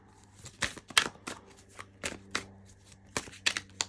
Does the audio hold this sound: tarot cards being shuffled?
yes